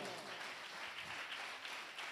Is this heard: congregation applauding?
yes